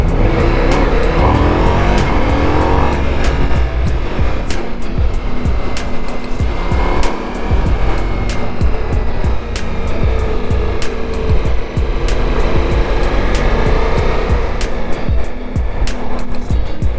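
Ducati Multistrada V4 S motorcycle with its V4 engine running, a loud, close, continuous engine roar with repeated sharp ticking or popping transients and no talking.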